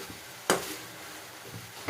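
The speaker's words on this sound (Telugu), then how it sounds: "ఇలా మధ్య మధ్యలో కలుపుతూ ఉండాలి అడుగంటకుండా. చికెన్ అయితే బాగా ఫ్రై చేసుకోవాలి." Chicken curry sizzles softly in a pan, with two quick scraping stirs of a spoon against the pan, one near the start and one at the end.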